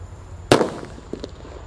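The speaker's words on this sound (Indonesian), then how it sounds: "Lanjut yang kita nyalakan disco happy flower yang warna ungu, guys." A disco happy flower firework fountain goes off with a single sharp bang, followed by a few fainter crackling pops as it fades.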